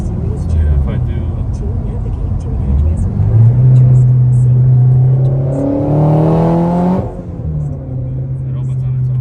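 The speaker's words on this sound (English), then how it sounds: "When you go wide open throttle, kind of, it opens up on its own." A Ford GT350 with a twin turbo kit pulls at wide open throttle, its engine note climbing and holding loud and close before cutting back to a lower drone, with brief talk early on.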